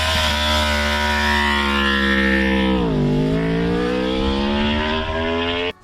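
A motorcycle held at launch-control revs, then the clutch is dumped: a loud, close, buzzing engine note sags briefly as it bites, then climbs steadily before cutting off abruptly.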